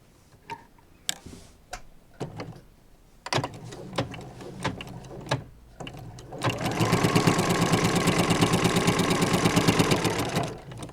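A sewing machine runs in a sustained, loud buzzing burst of rapid stitching for about four seconds, working back and forth on an advent calendar project, preceded by scattered clicks and handling of fabric.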